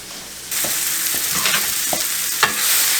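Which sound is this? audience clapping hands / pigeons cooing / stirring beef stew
stirring beef stew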